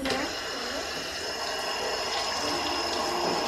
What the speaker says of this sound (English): Now wash hands.